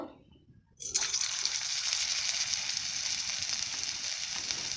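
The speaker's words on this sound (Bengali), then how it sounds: "তেলটা দিয়ে রেখেছিলাম কড়াতে ভালো করে গরম করে নেওয়ার পর এক এক করে দেব" Banana fritters drop into hot oil in a wok and sizzle loudly, a quiet moment giving way at once to a steady, close, continuous frying hiss that holds to the end with no talk.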